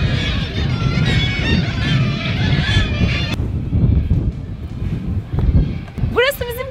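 Seagulls call nonstop in Nusfjord, a Norwegian fishing village. Harsh, overlapping cries ring out loudly for several seconds, then fade as people talk nearby and outdoor noise continues.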